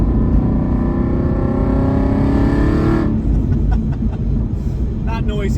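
A 2007 Aston Martin V8 Vantage 4.3 accelerates hard on a driving road, its V8 rising steadily in pitch with a loud, continuous roar before easing off into a lower, rumbling note after a few seconds.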